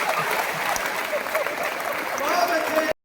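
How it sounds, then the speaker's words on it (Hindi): Crowd applause at a Hindi poetry recital, a steady wash of clapping from a large audience that holds evenly for about three seconds before cutting off abruptly. "हंसते हुए ताली, यार गुस्से में ताली क्यों बजाते?"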